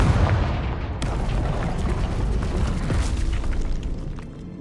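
Confringo explosion spell in the game Hogwarts Legacy, a loud booming blast that opens the clip and then rolls on as a rumbling burst before fading near the end.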